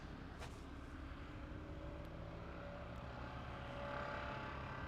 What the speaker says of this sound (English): it was still a slow RPM of the drilling machine here